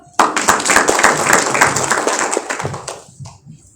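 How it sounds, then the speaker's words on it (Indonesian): An audience clapping at a community talk in Tanah Bumbu, a burst of dense applause that starts sharply, holds for nearly three seconds, then thins and fades out. "tepuk tangan dong"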